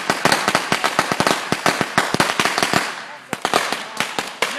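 Small Black Cat firecrackers crackle off in a rapid string of sharp pops, loud and close, thinning into scattered bangs, with people talking faintly underneath.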